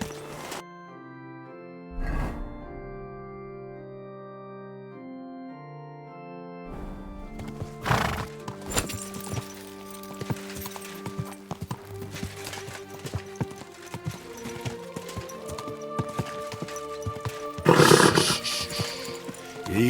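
Horse hooves clop and a horse whinnies in Kingdom Come: Deliverance II, with a sharp neigh near the start and bursts of movement later, set over game music and ambient sound.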